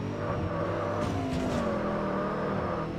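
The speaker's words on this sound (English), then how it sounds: "Oh, I love that blow-off valve sound." A car's turbo blow-off valve hisses during a Wangan Midnight highway race, a steady engine drone with a brief airy burst in the middle, fairly quiet and without talk.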